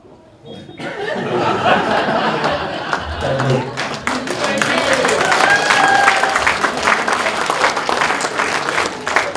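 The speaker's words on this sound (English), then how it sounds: "That's some applause already" An audience at a club's 70th anniversary commemoration breaks into sustained applause, a crowd of hands clapping steadily for several seconds, with some chuckles and murmured voices mixed in.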